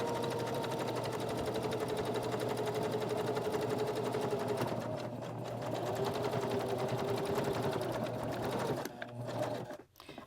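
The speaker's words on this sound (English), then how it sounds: "So let's go back to the machine. Now we're going to top stitch." A sewing machine top stitches around a fabric placemat, running in a steady, close, continuous whir that hums on for about nine seconds before slowing and stopping near the end.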